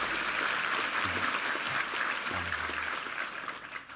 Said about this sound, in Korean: 우리 이부 성가대 한번 힘찬 격려의 박수 부탁합니다